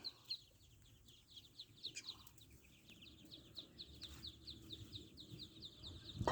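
Rapid, continuous high peeping of small ducklings, a busy chorus of cheeps close by with soft rustling underneath.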